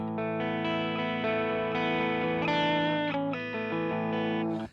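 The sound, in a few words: electric guitar through distortion pedal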